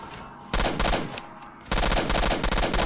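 Automatic gunfire in the video game S.T.A.L.K.E.R. Shadow of Chornobyl comes as two loud, rapid bursts of closely spaced shots, each lasting about a second, with a brief lull of quieter ambience between them.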